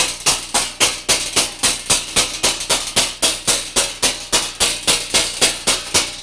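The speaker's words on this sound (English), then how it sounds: "when you pull this hammer up, it hits right in the center of the sight" Steady, evenly spaced metallic taps of a body hammer striking a car door panel backed by a bullseye dolly, about three blows per second, loud and close with no talk.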